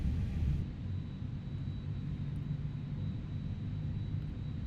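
A simulated airliner jet engine spools up during a start in the X-Plane 12 flight simulator, a steady low rumble with a faint whine, continuous and moderately loud with no talking.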